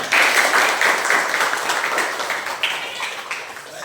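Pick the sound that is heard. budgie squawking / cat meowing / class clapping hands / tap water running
class clapping hands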